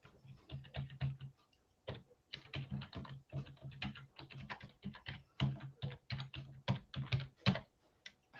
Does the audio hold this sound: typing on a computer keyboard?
yes